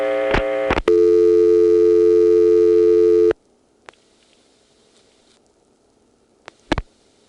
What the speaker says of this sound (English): the identifier stays on the line for several seconds and then finally does a start tone